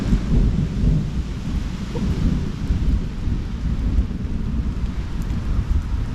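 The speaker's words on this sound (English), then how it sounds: "That is thunderous" Heavy thunder rumbles continuously and loudly during a summer thunderstorm by a lake on the Fourth of July, a deep rolling roar with rain noise underneath and no break across the stretch.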